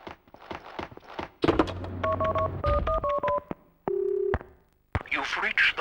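In the game Max Payne 2, a handset is picked up and a number is dialed, producing a quick series of clear touch-tone beeps, then a long dial tone. Clicks and a low hum come before it, and a voice briefly follows.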